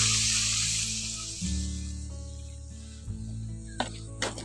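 Water poured into spice paste frying in oil, a loud hissing sizzle that starts strongly and gradually fades, over a low steady hum, followed by a few brief clinks.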